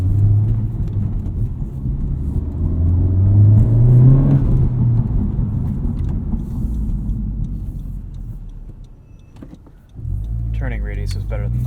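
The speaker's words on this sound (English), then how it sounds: "I love the little blow-off noise you get when letting off the throttle." A 2019 Honda Civic Type R engine revving up then easing off, followed by a fresh surge of engine noise, heard from inside the car.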